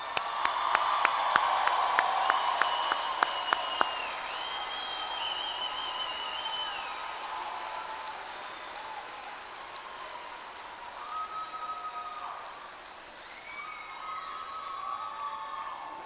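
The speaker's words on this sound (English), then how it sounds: "Let's give these guys one more round of applause here." Applause from a commencement crowd, a soft, steady patter of clapping at a distance that carries on throughout, with sharp clicks early on and faint whistles and tones drifting over it.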